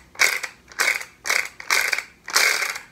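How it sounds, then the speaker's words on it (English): Worn spinner mechanism on a Bop It Extreme toy, turned in five rhythmic bursts of close, raspy ratcheting clicks separated by short pauses, with no voices. "The spinner still works, although it doesn't sound normal."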